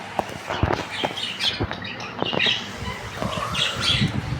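Video game birds chirp and squawk in short scattered calls amid clicks and thumps of gameplay, moderately loud with brief gaps between sounds.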